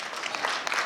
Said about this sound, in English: We can give her a clap, a better clap.